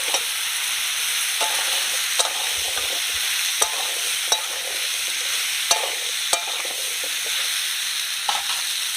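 Pumpkin and potato chunks frying in oil tempered with bay leaf, dried chilli, cumin and asafoetida, a bright continuous sizzle broken by repeated scraping stirs of a spatula against the pan.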